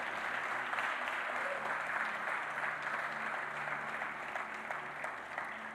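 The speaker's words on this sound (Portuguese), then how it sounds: "Você pode aplaudir a Deus por isso?" Church congregation applauding during a Portuguese-language sermon, sustained dense clapping from a large indoor crowd, loud and even for several seconds.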